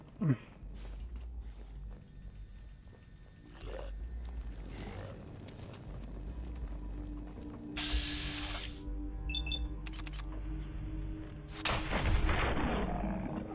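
Gunfire in Fallout 4 comes as a loud opening shot followed by scattered bursts, mechanical clicks and rumbling effects over a low game background.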